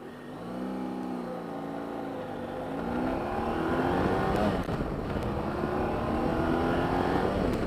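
A 2017 BMW F800GSA motorcycle engine runs close by, idling with a low throb and then rising into a steadier, louder drone as the revs climb, with no talk over it.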